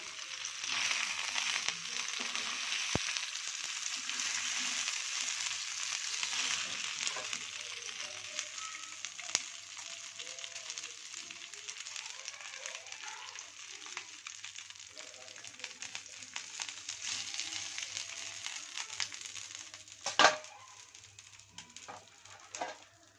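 Sankara fish shallow-frying on a dosa tawa, a steady loud hiss and sizzle of oil throughout, with occasional scraping and clatter, and faint speech in the background.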